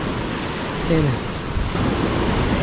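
Large ocean waves surging and crashing near a coastal cave, a broad, loud roar of surf with wind buffeting the microphone and a voice speaking briefly over it.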